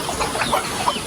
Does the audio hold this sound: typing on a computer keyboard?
no